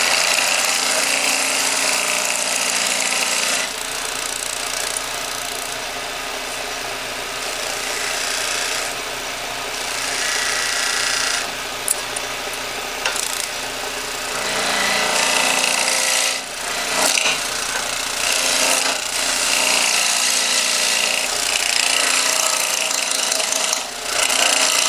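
Wood lathe cutting a tenon on a solid wood blank for a holiday tree decoration: continuous loud scraping and rasping of the tool against spinning wood over a low motor drone, with the tone shifting as the cut changes.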